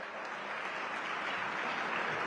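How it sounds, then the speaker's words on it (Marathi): Sustained applause from a large crowd at a BJP victory rally in Solapur, a dense steady clapping wash that holds evenly from start to finish with no voices on top. "सगळ्यांनी एकदा जोरदार पुन्हा साहेबांच्यासाठी टाळ्या वाजवल्या पाहिजेत"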